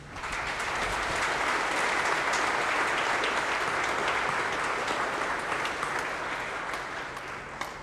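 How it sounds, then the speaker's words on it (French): Sustained applause from an audience at a Sunday feast-day church celebration in Pétion-Ville, a dense steady patter of many hands lasting throughout, tapering slightly at the end. "que je vous demande d'applaudir"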